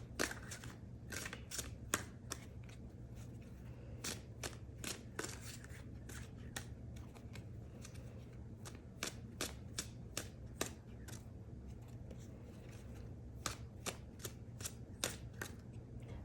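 Tarot cards are shuffled by hand in a quiet room, a run of crisp riffling snaps and flicks at an uneven rhythm, close to the microphone. No one speaks.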